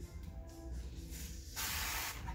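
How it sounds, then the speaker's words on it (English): Hissing spritzes from a spray bottle of slip solution during window tinting of a rear window, a lighter squirt followed by a longer, stronger spray, close by. "spray some slip in there"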